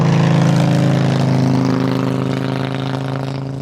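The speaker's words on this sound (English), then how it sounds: "We have a motorcycle right next to us." Motorcycle engine idling right beside the microphone at an airport plane-spotting spot, a loud steady low rumble with a throbbing pulse that eases slightly in volume toward the end.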